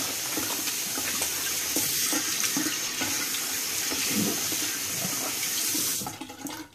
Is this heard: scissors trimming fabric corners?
no